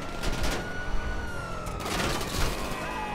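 Gunfire from the video game GTA 5, a dense burst of shots and blasts in two clusters, loud and continuous over a faint tone, with no talk.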